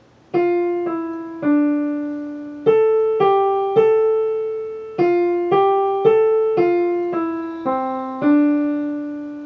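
A simple piano melody, single sustained notes played at an unhurried, even pace, each note ringing clearly and decaying before the next.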